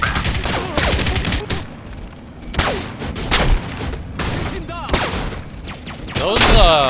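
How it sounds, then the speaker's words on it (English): Gunfire in the video game Crysis Remastered against elite special forces troops, a dense, loud fusillade of rapid shots and sharp cracks with occasional booms, continuous throughout. "bullet sounds are loud as hell, dude. Never realized how loud those bullet sounds were."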